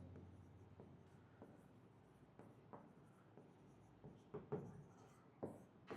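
Chalk or marker writing on a board during a biology lecture, faint scratchy strokes in a steady series that grow slightly louder toward the end, heard alone without speech.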